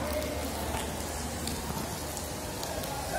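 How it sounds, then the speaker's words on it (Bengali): Heavy rain pours steadily in a dense, even hiss with scattered drops pattering on surfaces, constant and enveloping throughout, with a light breeze and no talking. "প্রচণ্ড বৃষ্টি হচ্ছে। বাতাস তেমন নাই, কিন্তু হালকা হালকা বাতাস।"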